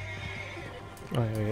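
A horse in Red Dead Redemption 2 gives one loud, close whinny near the end, after a stretch of quieter game ambience with a low hum.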